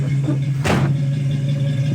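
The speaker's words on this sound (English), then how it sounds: "That's how easy it starts. It's idling at 600 RPM, just perfect down here." A 1965 Ford Mustang Fastback engine idles steadily at about 600 RPM, a low, even rumble close by, with a short bright clatter or knock partway through.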